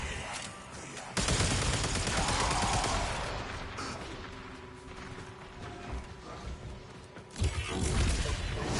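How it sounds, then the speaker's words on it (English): Sustained Earthwing gunfire in the Warframe shooter, a dense, loud mechanical barrage running for several seconds, easing off, then a second heavy burst near the end. "I love this gun. My Earthwing gun."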